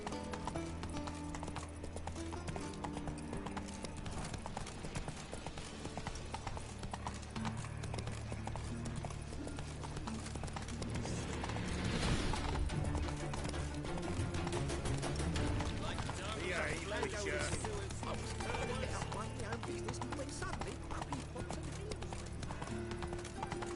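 A horse gallops in The Witcher 3, a continuous rapid clip-clop of hooves under steady game music and ambience, swelling briefly midway with a faint whinny.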